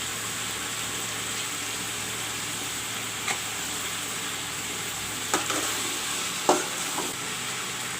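Brinjal and potato pieces fry in oil in a pan for aloo baingan, a steady soft sizzle with a few scraping stirs of a spoon, and no one speaking.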